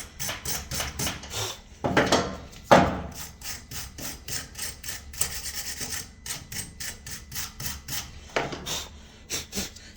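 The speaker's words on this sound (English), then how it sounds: "next we'll give our caliper carrier a quick clean, our wire brush" Wire brush scrubbing rust off a brake caliper carrier in quick, rhythmic rasping strokes, close up, with a few louder scraping bursts and short pauses between passes.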